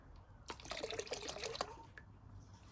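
Autoglym car shampoo is poured in a couple of quick splashes into a wash bucket, giving a short, faint liquid glug and pour lasting about a second, followed by a single drip.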